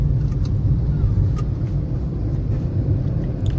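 A car cruising in third gear during a driving lesson, a steady low engine and road rumble heard from inside the cabin, continuous and moderately loud with no voices.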